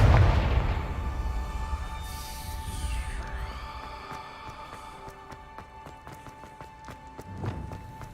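A Confringo fire-blast spell cast in Hogwarts Legacy: a loud, rumbling explosion at the start that tails off into a swishing sweep, with tinkling game effects and a later softer thud.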